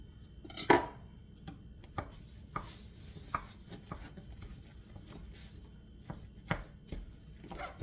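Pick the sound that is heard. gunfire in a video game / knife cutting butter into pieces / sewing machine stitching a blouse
knife cutting butter into pieces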